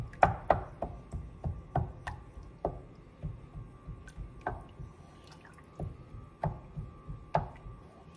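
Cooked meat in a pot being pressed and broken apart with a utensil, a series of soft, wet thuds and squishy taps at an uneven rhythm, close and fairly quiet.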